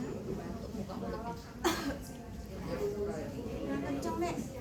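A child coughs once, sharply, during a breathing and coughing exercise, with adult voices talking over much of the scene.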